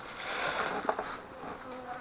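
Honey bees swarm at a hive opened for an autumn inspection in New Hampshire, a close, steady buzzing that swells briefly midway, with faint talk beneath.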